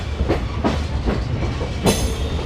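The Vibhuti Express rolls along the rails with a steady rumble and a regular clickety-clack of wheels over rail joints, heard loud and close from on board the train.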